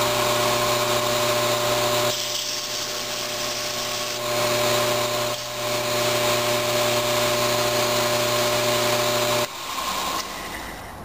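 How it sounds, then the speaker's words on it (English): A grinder sands the front face of a forged steel knife block flat, a loud, steady, humming whine with rasping grit that dips briefly and changes as the steel is pressed and lifted. "Just going to take it over the grinder and sand off that front face and make it nice and flat"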